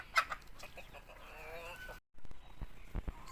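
Breeder chickens cluck and call close by on a small farm, several sharp bursts and a drawn-out rooster-like cry, with a brief silence midway and a few clucks after.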